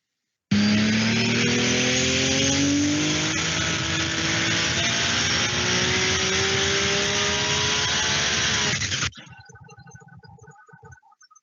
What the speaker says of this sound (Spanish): a medida que el motor aumenta sus revoluciones, ¿Sí? el múltiple de escape aumenta su temperatura